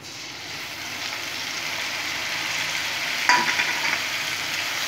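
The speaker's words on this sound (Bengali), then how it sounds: "খুব সুন্দর করে ভেজে নেবো।" Black cumin, garlic and green chilies frying in hot oil, a steady close sizzle throughout with a brief sharper crackle near the end.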